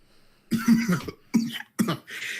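Several harsh coughs in quick succession, close by, with a short pause between bursts and a faint breathy sound trailing at the end.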